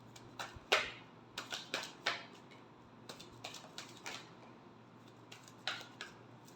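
Tarot cards are shuffled in a series of quick, crisp riffling snaps and taps in irregular bursts, faint and alone with no talk.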